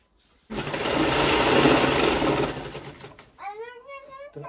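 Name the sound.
sewing machine stitching a baby quilt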